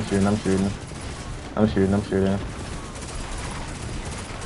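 Rapid gunfire in the Destiny 2 video game crackles steadily in the background beneath people talking over voice chat, with no clear separate shots standing out.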